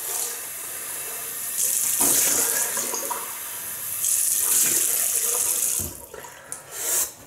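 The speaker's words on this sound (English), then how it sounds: "Right, we'll rinse off." Water runs steadily from a bathroom tap as someone rinses off after a shave, a loud continuous splashing stream that swells and eases as hands move through it, with no talk.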